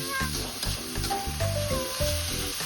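Pancit canton ingredients are stirred in a sizzling pan, with steady frying hiss and scraping under faint tonal, voice-like sounds.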